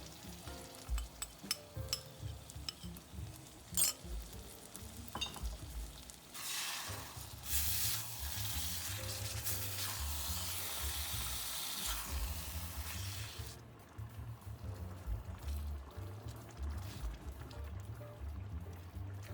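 Yuxiang eggplant stir-fried in a wok as sauce is poured in on low heat, giving a steady close sizzle with scraping stirs and a brief louder hiss mid-way, continuing without talk.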